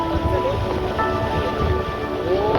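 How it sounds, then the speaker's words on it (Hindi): River water and a thin waterfall rush together at a mountain confluence on the Lipulekh route, a steady broadband roar filling the clip while voices and faint tonal sounds ride above it. "वो बीच में पतली सी झरना चल रही है"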